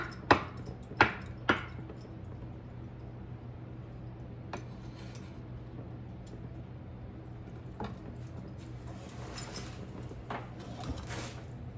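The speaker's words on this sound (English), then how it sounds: "But I do like mushrooms, so, you know, I'm gonna bite the bullet and just really chop these up well." Mushrooms being chopped on a board, with a few sharp knife strikes at the start, then scattered lighter taps and scraping over a steady background hum.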